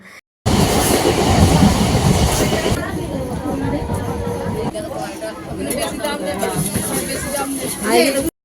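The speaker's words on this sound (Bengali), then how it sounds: "প্ল্যাটফর্মে নেমে এসে দেখি আমাদের ট্রেনও ঢুকছে" A local train pulls into a platform at Bardhaman station, a loud rumbling roar with rhythmic wheel clatter that eases as it slows, while people chatter nearby.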